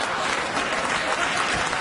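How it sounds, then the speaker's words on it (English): Studio audience applause on a late-night comedy talk show fills the room, a dense, steady wash of many hands clapping at even loudness throughout, with no voices rising above it. "Interestingly, the audience applauded the idea of it."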